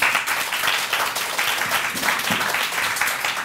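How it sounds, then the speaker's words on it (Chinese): Audience applauding to welcome a guest speaker at a Taipei talk event, a dense steady clapping that fills the room for the whole stretch. "所以我们就最热烈的掌声欢迎章鱼粥。"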